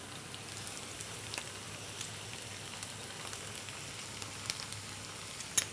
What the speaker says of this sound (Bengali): আমরা পেঁয়াজটা একটু ফ্রাই করে নিচ্ছি, আমরা বাদামি হওয়া পর্যন্ত একটু অপেক্ষা করব।